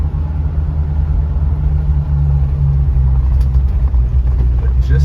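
A 1955 Chevrolet Bel Air rumbles steadily while driving, a loud, continuous low engine drone inside the car with road noise and no break.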